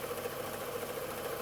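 Electronic sewing machine motor running on about 23 to 24 volts DC, a steady close mechanical whir with a constant hum and no pauses.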